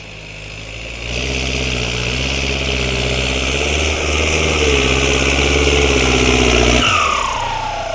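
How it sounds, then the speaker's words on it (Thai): A motorcycle with a custom side-exit exhaust pipe revs loudly and close, holding a steady, throaty drone for about six seconds before dropping away. No one speaks. "เสียงผู่จะดังเฉพาะช่วงทำงานนะครับผม"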